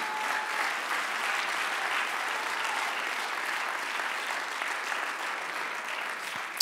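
Steady applause from a church congregation fills the room, broad and sustained at an even level throughout, with no voices standing out.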